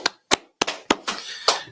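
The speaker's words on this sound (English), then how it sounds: "So let's go ahead and clap it up, man." A few distinct, separate claps from a small group in a meeting room sound close and sharp, spaced irregularly over less than two seconds, with no talking.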